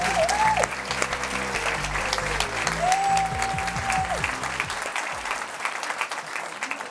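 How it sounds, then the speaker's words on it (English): Audience applause after a business talk, a steady wash of clapping from a crowd over a loud musical sting that fades out, leaving the clapping alone. "Everyone, give Amelia a round of applause."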